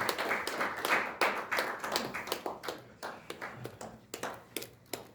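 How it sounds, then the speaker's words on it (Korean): Audience applause welcoming a speaker to the stage at an academic conference, a burst of hand clapping that thins into scattered, uneven claps over about five seconds. "박수로 맞이하겠습니다"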